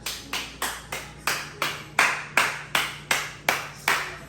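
One person claps slowly and evenly after finishing a home workout, about a dozen crisp, separate claps in a steady rhythm, close and fairly quiet.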